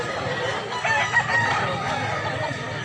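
A fighting rooster crows at a busy Cebu cockfighting market, its call rising over the constant murmur of the crowd, with people talking nearby.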